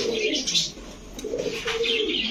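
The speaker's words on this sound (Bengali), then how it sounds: "এই যে দর্শক দেখেন রাজশাহী গিরিবাজ।" Rajshahi Giribaz pigeons coo inside a pigeon shop, several birds giving low, throaty rolling coos close by, with faint chirps and a hint of wing movement against steady room noise.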